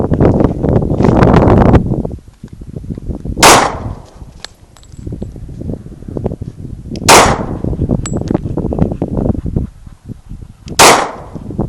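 A Glock 27 pistol firing Golden Saber 180gr rounds over a chronograph outdoors, three loud sharp shots spaced a few seconds apart, with wind noise between them.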